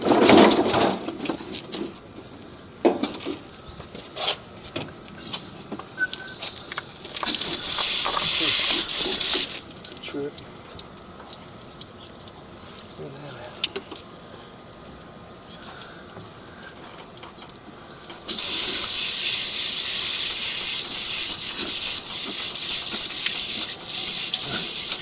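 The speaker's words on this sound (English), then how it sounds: "I'm going to just run some water through here real quick. Try and flush this thing" Water rushes through a drain line in a steady hiss, surging louder in two long stretches between quieter running, with occasional knocks and clatters from the inspection camera inside the pipe.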